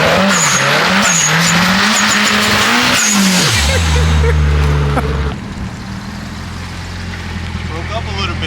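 A car revving hard during burnouts on a strip, loud and close, with engine roar, rising revs and tire squeal, then the engine drops to a steady drone; voices talk over it.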